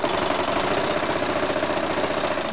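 Sewing machine stitching around the edge of a fabric tube being made into a mermaid dress, a loud steady mechanical whir with fast rhythmic pulsing that runs continuously without talk.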